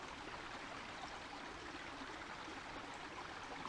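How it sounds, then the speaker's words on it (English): A creek flows right beside a campsite on the Superior Hiking Trail in Minnesota at night, a steady broadband rush of running water with no breaks, close and constant throughout. "I'm not sure if you can hear the creek right next to me or not"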